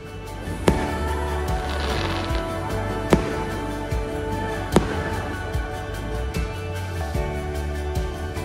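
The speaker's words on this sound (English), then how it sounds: "still ended the night admiring the fireworks coming from the town" Fireworks over a town at night in Antigua, Guatemala: three sharp, distant pops spaced a couple of seconds apart, heard over steady background music.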